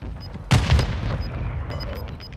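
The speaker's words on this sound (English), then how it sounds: "Grenade out!" A grenade blast and gunfire in a tactical shooter game, one sharp loud boom followed by a rumbling tail with faint scattered pops, close and alone.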